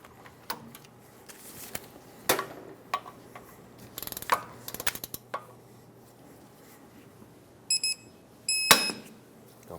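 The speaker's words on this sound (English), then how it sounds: "Now we can torque them all. 149 foot-pounds is the torque." Torque wrench tightening the front brake dust shield bolts on a 2003-2009 Dodge Ram 2500, several sharp metallic clicks spaced across the quiet, with a brighter ratcheting burst near the end.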